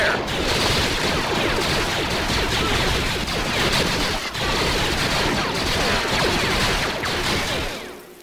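Dense, continuous blaster fire from many troopers crackles in a Star Wars strategy game battle, a loud unbroken barrage lasting several seconds that fades at the end.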